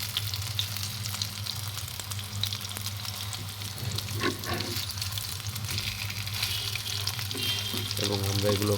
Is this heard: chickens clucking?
no